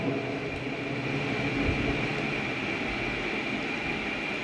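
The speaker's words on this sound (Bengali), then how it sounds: "এই যে ট্রেন দেখা যাচ্ছে চারপাশে ঘোরে ট্রেন" A toy train circles an amusement park in Cumilla, a steady low mechanical rumble with a faint constant hum, moderately distant and unchanging throughout.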